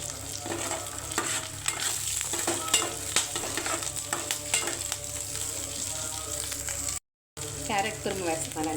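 Food frying in a pan while being stirred, close sizzling with frequent scraping strokes of a spoon, a brief dropout near the end, then louder stirring and crackle.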